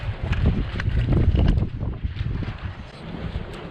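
Strong wind buffeting a microphone outdoors at a house build site, a loud, continuous rushing roar with gusty swells that ease slightly toward the end, with no speech.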